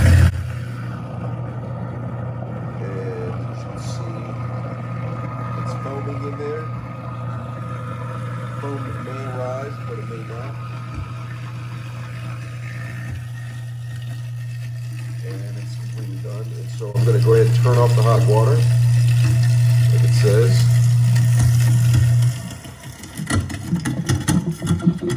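A garbage disposal runs with a Glisten cleaner packet dropped inside, giving a steady low motor hum with watery churning that swells louder for several seconds near the end before cutting off.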